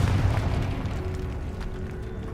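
A Confringo fire spell explodes in Hogwarts Legacy: a loud, deep, rumbling blast that stays dense and sustained for a couple of seconds before easing off slightly.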